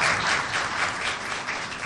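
A dense burst of applause from a crowd fills the whole stretch, steady and loud, with no voices over it.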